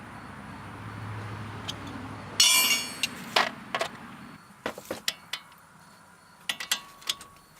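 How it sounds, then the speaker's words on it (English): During a car brake job, a breaker bar works loose tight brake bolts. After a low, quiet stretch, a burst of metallic rattling gives way to scattered sharp clanks and ticks of tools on metal, close by. "Those are on there pretty tight. So I'm gonna use my breaker bar."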